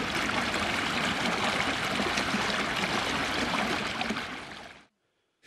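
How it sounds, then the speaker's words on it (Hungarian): Bükkös stream, a main watercourse of Hungary's Visegrád Mountains that runs through a rocky gorge, rushes in a steady, close, broadband splashing flow for about five seconds before abruptly cutting to silence. "A Bükkös patak a Visegrádi hegység egyik legjelentősebb folyóvize, dobogókő alatt ered"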